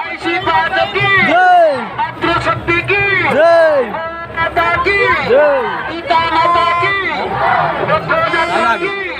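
Dense crowd of devotees at a Rath Yatra festival, a loud, close hubbub of many voices with rising and falling shouts and cries, while people talk nearby throughout.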